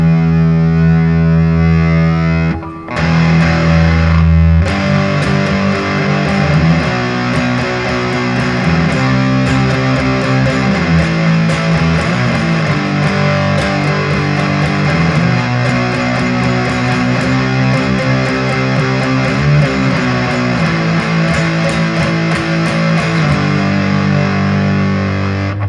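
Heavily distorted electric guitar through a ProCo Lil Rat distortion pedal, playing sustained, saturated chords, loud and continuous with a brief break near the start.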